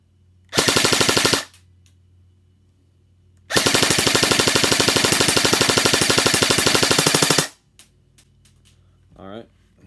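An airsoft AEG rifle with a mid-cap magazine fires two loud full-auto bursts, a short one then a longer steady stream of rapid shots, separated by near silence, with faint handling noise after.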